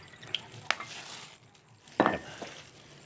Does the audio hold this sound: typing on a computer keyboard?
no